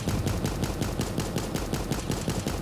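AK rifle firing at targets in a video game: rapid, evenly spaced automatic bursts, roughly ten shots per second, loud and close, continuing without a break throughout.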